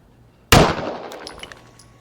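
A single sharp rifle shot cracks out while sighting in an Aristocrat tri-set sight, a loud sudden blast followed by a decaying ring and faint echo trailing off over about a second and a half.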